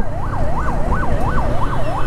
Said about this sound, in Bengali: একটা অ্যাম্বুলেন্স ইমার্জেন্সিভাবে যাওয়ার জন্য ওইরকম একটা লেন তৈরি করে দিচ্ছে।